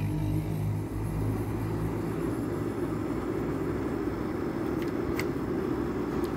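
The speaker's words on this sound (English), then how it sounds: "Of course, a loud vehicle has to drive by and ruin everything." A loud vehicle passes nearby, a broad rumbling roar that starts strong and gradually fades as it moves away, with no talk.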